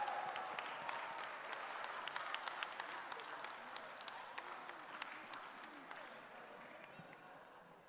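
Scattered applause breaks out at a Shabbat morning service, many hands clapping in a dense, fairly quiet patter that spreads across the room and slowly fades.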